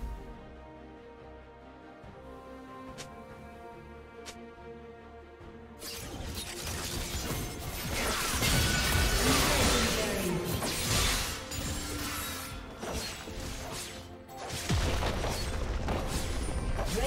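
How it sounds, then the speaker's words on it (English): A League of Legends turret is destroyed amid a heavy game-fight din, with loud booms, crashes and whooshing effects swelling after a quieter opening and continuing for many seconds. "His turret has been destroyed."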